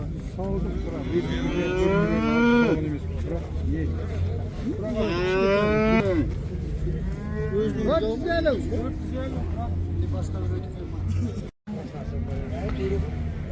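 Cows moo loudly and repeatedly at a livestock market in Taraz, Kazakhstan, several long drawn-out calls close by, over a constant low rumble of background noise and chatter.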